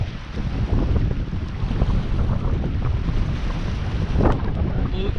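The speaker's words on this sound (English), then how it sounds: "Still windy wherever we go, guys." Strong wind blowing across open water on a fishing outing, a steady loud rush buffeting the microphone with lapping waves underneath and no talk.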